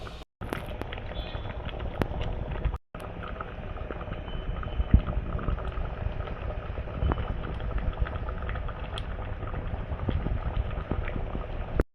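Chickpea curry bubbles and simmers steadily in a pan, a dense crackling burble with occasional louder pops, close by and without any talking.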